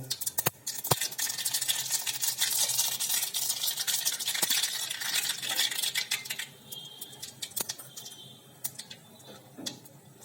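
Spices tempering in hot oil for a green garlic, onion and sev curry crackle and sizzle loudly, with metal spoon clicks and scrapes. The sound is dense for the first six seconds, then thins to sparser pops and taps.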